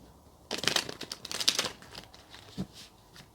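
Tarot cards being shuffled at close range, two quick papery riffling bursts followed by a softer slide and a faint tap, with no one speaking.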